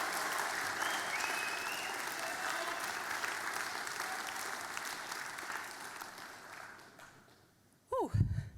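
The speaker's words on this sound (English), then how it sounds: "Let's give them a round of applause" A large crowd at a young farmer contest grand final gives the contest committee sustained applause, a thick even roar of clapping that fades out before a close voice starts speaking.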